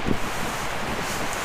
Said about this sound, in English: Do you hear the wind?